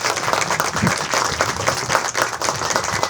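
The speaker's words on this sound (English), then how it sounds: "he deserves a round of applause" A crowd at a downtown Orland Park groundbreaking ceremony gives a round of applause for the mayor, dense and continuous clapping heard fairly close.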